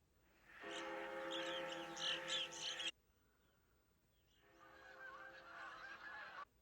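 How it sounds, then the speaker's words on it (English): A large flock of birds in a film scene honks and calls in a dense, clamorous burst, breaks off abruptly, then swells again more softly, no voices over it. "Damn, that's a lot of birds."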